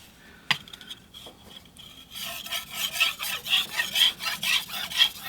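A steel knife blade is sharpened on a King whetstone, rhythmic scraping strokes that grow louder after a quiet start with a single sharp tap, close and alone.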